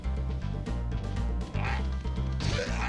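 Game dogs in Spyro the Dragon bark in short yips over steady looping background music, fairly quiet and mixed low.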